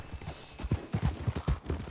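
Horse hooves clip-clop in a steady, close trotting rhythm in Red Dead Redemption 2, with soft thuds on dirt and faint ambient game sound beneath.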